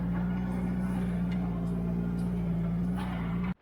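A Mini-engined Turner Ranger tractor from the 1970s idles steadily with a strong, even low hum and a few faint clicks, close by, before the engine cuts out abruptly at the end.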